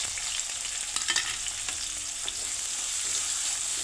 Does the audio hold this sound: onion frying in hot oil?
yes